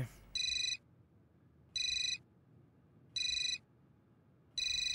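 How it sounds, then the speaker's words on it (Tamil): An incoming call sets off a phone ringtone, four bright electronic bursts repeating at an even pace with quiet gaps between them, clear and close over faint background. "ஃபோன் தான் வருது"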